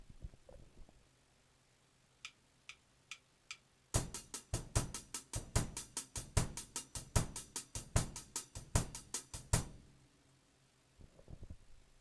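Four soft clicks count in, then a quick, steady bossa nova drum groove without snare, sharp hits and low thumps, plays briefly and stops.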